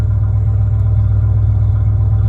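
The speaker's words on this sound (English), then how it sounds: "Shot of the exhaust of the motor running." Steady low exhaust rumble from a 2017 Ford F-350 truck's running 6.2-liter engine, loud and close, with a faint regular pulsing and no talking.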